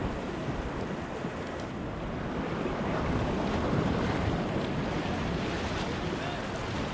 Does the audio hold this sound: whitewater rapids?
yes